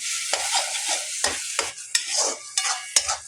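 Tomato puree hits golden fried onions in a pan for chole curry, sizzling under quick scraping stirs of a spoon, in short, uneven bursts close up.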